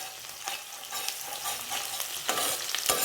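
Steady crackling sizzle of onions frying in sesame oil for fish curry, with occasional scraping stirs from a utensil, close up and fairly loud.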